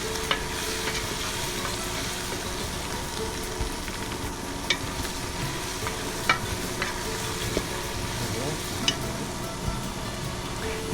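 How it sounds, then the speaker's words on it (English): Onions and cinnamon being stirred into a beef mixture in a pot for pot roast, a steady sizzling bed with soft scraping strokes and occasional clicks of the spoon against the pot, no talking. "put that in the meat mixture, stir that around"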